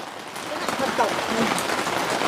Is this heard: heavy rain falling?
yes